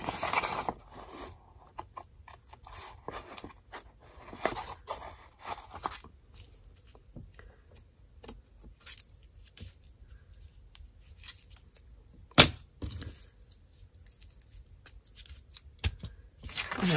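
Scissors snipping through lace for a Christmas tree craft, a few quiet, sparse cuts spaced apart with one sharper snap midway, close and otherwise near-silent.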